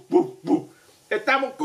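A person imitates a dog, giving two short woofs followed by a few more yappy bark-like sounds.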